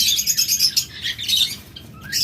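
Budgerigars of the double flower variety chirp in a busy, overlapping flock, with bright, rapid tweets and squawks close by and no talking.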